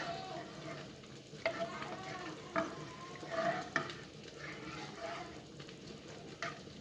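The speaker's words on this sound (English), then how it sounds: "Stir it up in there. Get the sauce going." A cheesy tuna casserole sauce is stirred in a pan, giving a steady soft sizzle with intermittent scraping strokes of the spoon against the pan, moderately close with no talking.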